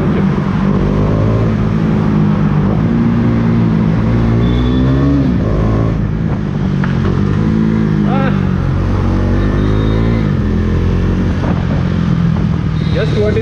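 A KTM Duke 390 motorcycle with its dB killer removed rumbles and revs steadily on the road, its exhaust note rising and falling in waves beneath continuous close talking throughout.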